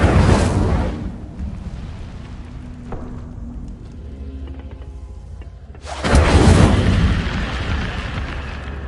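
Fire spell cast in Hogwarts Legacy, a loud whooshing burst with a rumbling boom that fades into a low crackling tail, then a second loud burst flares up near the end.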